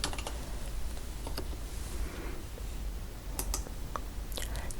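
Text typed on a computer keyboard while working in Photoshop: quick, light key clicks come in an uneven run over a steady background hiss, close by and fairly quiet, with no voice.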